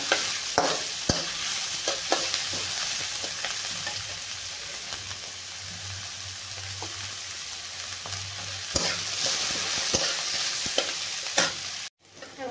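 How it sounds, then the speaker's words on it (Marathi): Onion frying in a pan for an eggplant dish sizzles steadily for several seconds, with repeated spatula stirs and scrapes, close and fairly loud, ending in a brief pause. "भरपूर तळून घ्यायचा आहे कांदा आपला चांगला"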